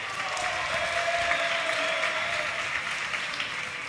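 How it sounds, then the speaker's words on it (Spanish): A live audience at the grand final of a League of Legends esports tournament applauds both teams, a steady wash of clapping that holds for several seconds at moderate distance. "lo que sí quiero un fuerte aplauso para ambos equipos"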